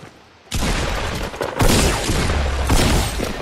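Fortnite gunfire: a sudden loud burst of rapid shots that starts after a brief quiet moment, then continuous sustained firing with a second heavy surge partway through.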